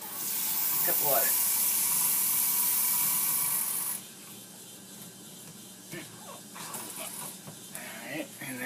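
A cup of water pours into a pot in a loud, splashing rush lasting a few seconds, then cuts off, followed by quieter clinks and handling sounds with a voice speaking briefly.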